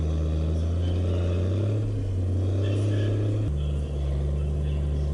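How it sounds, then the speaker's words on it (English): A vehicle engine drones steadily at close range while being driven back to a log drag during a solo winch-line change, its low hum holding level and then shifting pitch abruptly partway through. "and I'm going to drive back here to my drag."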